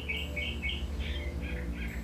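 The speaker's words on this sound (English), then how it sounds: "I have birds in my chimney, so this is coming from the fireplace." Birds nesting inside a house chimney, their high chirps carrying out through the fireplace as a series of short repeated calls over a low, steady indoor hum.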